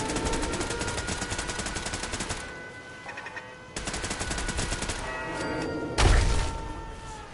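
Automatic turret gunfire in the Fallout 4 video game, loud rapid bursts of shots in several volleys with short gaps, ending in a heavier thumping burst, no talking.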